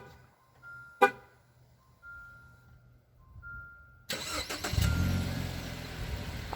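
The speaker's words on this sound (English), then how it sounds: "And then that just turns the engine on, none of the electrical components." A 2016 Jeep Renegade honks a short horn chirp and then, after a few quiet seconds, its engine cranks and fires up by remote start, settling into a loud, steady idle close by.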